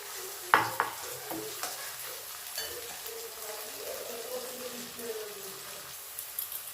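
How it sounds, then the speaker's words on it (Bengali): Onions fry in oil in a pan, a continuous moderate sizzle with clinks and scrapes of stirring, a few sharper knocks early on, no voices. "তো আমি এখানে পেঁয়াজ ভাজতে বসিয়ে দিলাম।"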